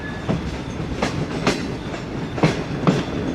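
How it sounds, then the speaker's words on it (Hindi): Pak Business Express passenger train approaching Lodhran junction at night, with steady rolling rumble and a series of sharp clickety-clack wheel hits over rail joints repeating at irregular intervals, no talk. "अभी ट्रेन अप्रोच कर रही है हमारी लोधरा जंक्शन पर"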